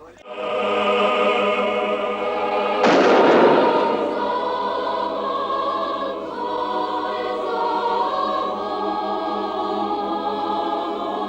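One sharp gunshot cracks out partway through a scene in the Kyrgyz film "Shot at the Karash Pass", loud against a steady musical soundtrack that continues before and after.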